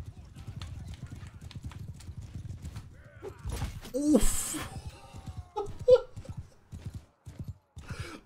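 Horse hooves clip-clop in a steady galloping rhythm during a Mount & Blade II: Bannerlord battle, with a brief whinny and a burst of combat noise midway, heard under ongoing talk from a player.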